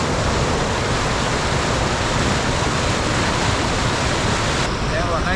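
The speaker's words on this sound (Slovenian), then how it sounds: "Evo, najcenejša voda, pa izvir je tamle 50 metrov gor" Spring water rushing steadily from a source in a small eco village near Travnik, Bosnia, heard close as a dense, unbroken roar of flowing water throughout.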